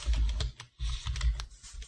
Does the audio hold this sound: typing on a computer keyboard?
yes